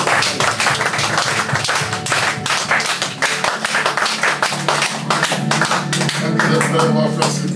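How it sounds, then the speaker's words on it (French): A church congregation claps in strong rhythmic unison as an acclamation to the Lord, steady and loud, with music and voices running underneath. "L'acclamation pour le Seigneur"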